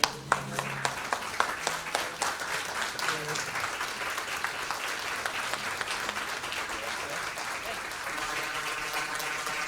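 An audience bursts into sustained applause as a district governor is welcomed, dense steady clapping filling the room with a few sharper claps standing out near the start.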